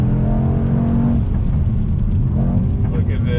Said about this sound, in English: showcase this all-wheel drive and performance of this vehicle on throttle